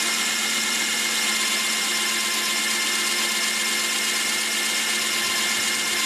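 A Lidl Parkside PTBM 710 A1 drill press motor runs steadily at about 500 rpm, a loud, even, continuous electric whine and hum with no change in pitch throughout.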